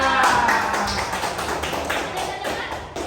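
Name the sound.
audience applause for student groups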